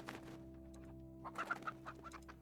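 Chickens in the video game ALTF4 cluck faintly in a few quick, soft bursts over a low steady hum, with no talking over them.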